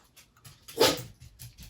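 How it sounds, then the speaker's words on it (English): A dog gives a single short, sharp bark or yelp indoors, close by, with quiet background and faint rustling around it. "Dog."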